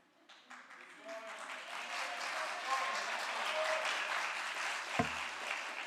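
An audience bursts into applause at a birthday celebration session, clapping swelling from quiet to a sustained, fairly loud roar, with talk faintly beneath and a thump near the end.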